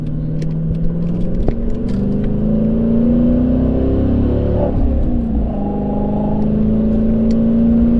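A 2009 Dodge Challenger SRT8 engine roars and accelerates continuously up an on-ramp, its pitch climbing through the gears with a brief dip midway, loud and close throughout.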